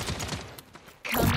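Short burst of rapid gunfire in the video game Paladins, a quick volley of shots up front followed by a louder blast of action near the end.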